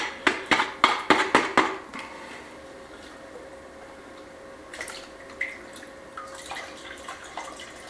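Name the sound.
water poured into pot of lime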